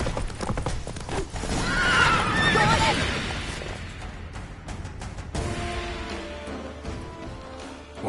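Geralt's horse Roach from The Witcher game clip-clops at a trot and lets out a loud, high whinny, layered under rushing game ambience and a brief spoken line.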